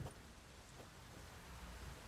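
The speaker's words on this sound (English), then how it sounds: "And it's raining." Rainfall in the video game The Witcher 3, a faint, steady wash of falling rain with low rumbling underneath, continuous throughout and with no talking.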